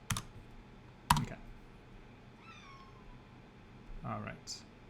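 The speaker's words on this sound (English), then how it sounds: "Sorry, my cat's meowing at me." A house cat meows twice nearby, short rising calls near the end, after a couple of sharp clicks and faint typing in a quiet room.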